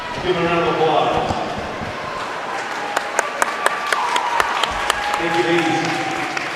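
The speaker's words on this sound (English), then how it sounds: "Give a round of applause." Spectators at a high school swim meet finals applaud the top finishers heading to the medal stand, scattered clapping in an echoing indoor pool hall, with announcer-style talk and sharp claps standing out.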